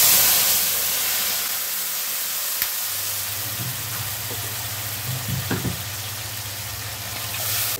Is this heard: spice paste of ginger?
yes